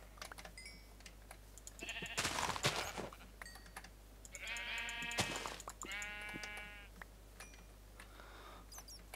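Minecraft sheep bleat repeatedly in a game world: a burst of noise, then two distinct wavering bleats in close succession, moderately loud against a faint steady background.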